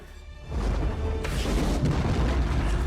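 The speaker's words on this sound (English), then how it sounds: "it's an amazing explosion, stunt work, direction for visual Compositing. effects." A film explosion from Dragonheart hits with a sudden heavy boom after a short quieter lead-in, then rolls on as a loud, dense rumble and roar to the end.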